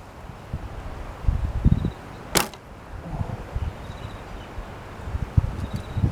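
A homemade crossbow fires a red pencil arrow outdoors near a beach, giving one sharp snapping release in the middle, surrounded by soft wind rustle and faint handling thumps.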